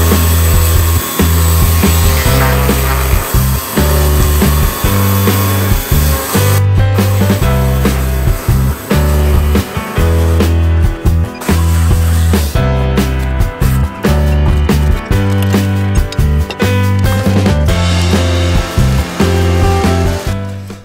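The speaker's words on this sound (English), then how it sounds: "I'll need the chainsaw to take it out" A chainsaw engine roars loud and close, grinding steadily through a wooden beam in a Victorian house, with brief dips in pitch as the blade bites.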